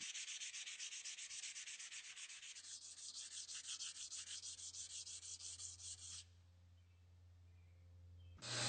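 Abrasive scrubbing of surface rust and heat scale off a steel blade, a steady rhythmic rasping close up that shifts to a lower, smoother tone with a machine hum underneath, then stops abruptly.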